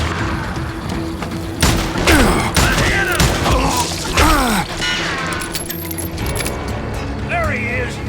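Gunfire in Call of Juarez Gunslinger, sharp shot bursts cracking repeatedly amid game music and effects, with ricochet-like whines and voices shouting over the action.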